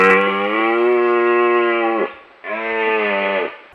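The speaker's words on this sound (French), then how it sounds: "Le brame du cerf élaphe," A red deer stag bellows during the rut with two loud, close, drawn-out roars. The first lasts about two seconds and the second is shorter, following after a brief gap.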